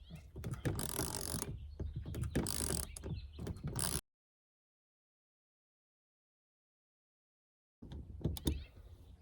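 A socket wrench with an 11/16 socket turns a nut on aluminum van framing in a Sprinter van, with bursts of ratcheting clicks, a long silent gap, then more ratcheting near the end.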